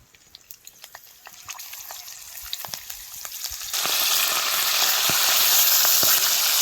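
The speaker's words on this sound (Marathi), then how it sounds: "आता आपण ह्या मिरच्या तळून घेऊ" Green chillies deep frying in hot oil, a steady close sizzle with scattered pops that swells into a loud, dense crackle partway through, with no voices.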